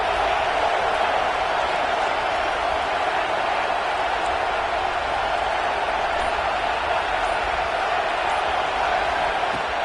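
A dense, steady roar from a stadium crowd fired up early in a regular-season football game, a sustained wash of cheering and shouting that holds loud and even throughout with no pauses.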